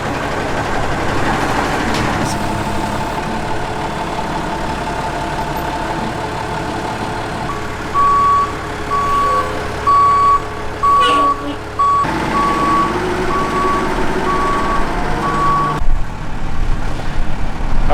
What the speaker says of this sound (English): We're gonna go ahead and attempt to lift it off with a forklift.